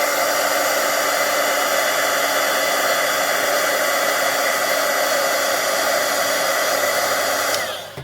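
A heat tool blows a loud, steady, hissing stream of air as it melts embossing powder on craft card, running unbroken for several seconds before cutting off.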